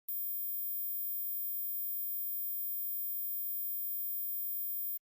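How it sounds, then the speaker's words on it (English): A pure, very high-pitched sine test tone sounds steadily and alone for about five seconds, piercing and unchanging in level. "Now show this video to adults and you will see that they can't hear this high frequency sound."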